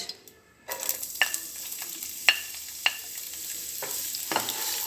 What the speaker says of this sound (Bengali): তেলটা যখন গরম হয়ে আসবে তখন আমি দিয়ে দিব কুচানো পেঁয়াজ